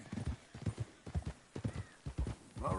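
Horse hooves clip-clopping in Red Dead Redemption II, a steady rhythmic run of close, hollow thuds on the ground, ending with a horse's whinny.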